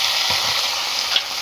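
Chopped tomatoes frying in hot oil with panch phoron for a tomato and date chutney, a steady close-up sizzle with light stirring noises.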